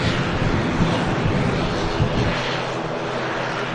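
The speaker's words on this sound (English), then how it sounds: "There is a Aegean A320neo on the roll, heading back to Athens." An Aegean Airbus A320neo on its takeoff roll at Manchester Airport gives a loud, steady, broadband engine roar that holds throughout and eases only slightly toward the end.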